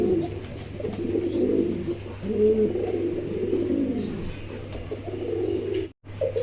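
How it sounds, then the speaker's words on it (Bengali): Two pigeons, a breeding pair of fancy pigeons, coo steadily close up, with a continuous run of low rolling calls that ends in a brief dropout near the finish. "এখানে অসাধারণ আরও এক জোড়া কবুতর আছে"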